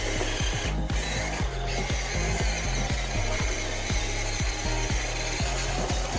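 A 1/20-scale Mercedes Arocs RC dump truck spinning its wheels in loose sand, a steady electric motor whine with rapid rhythmic gritty ticking from the churning tires, close and continuous.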